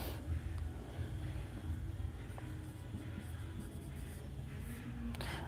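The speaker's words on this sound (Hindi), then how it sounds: "चलो अब देखिए नेक्स्ट एग्जांपल हम लिखते हैं" A marker or chalk scratching an example onto a classroom board during a grammar lesson, faint and continuous against a noisy room background.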